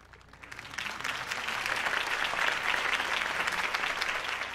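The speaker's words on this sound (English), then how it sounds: "could have heard that applause" A crowd in the video game Batman: The Telltale Series breaks into applause after a campaign speech, swelling quickly and holding as a dense, sustained wash of clapping.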